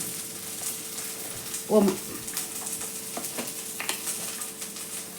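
Spices with ajwain frying in hot oil for clam sukka, a steady close sizzle with a few sharper spits and a brief stirring clatter, while a voice speaks quietly over it.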